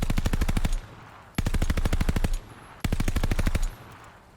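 A DP 27 light machine gun fires in Call of Duty: Vanguard in three loud, close bursts of rapid automatic shots. Each burst lasts about a second and is followed by a brief ringing tail before the next.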